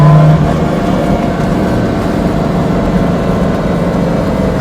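Lamborghini Miura engine running with a steady, loud low rumble and a throaty revving edge, close and continuous throughout with no talk over it.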